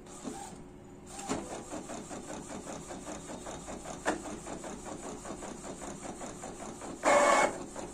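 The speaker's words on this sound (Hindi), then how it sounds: "आप देख सकते हैं कितनी तेज़ी से प्रिंट हो रहा है दोस्तों, क्योंकि सेटिंग उसी तरीके से है।" An Epson L1300 ink tank printer printing a roughly 12x36 inch sheet, a steady mechanical whir with fast rhythmic carriage pulses, close by, with a louder burst near the end.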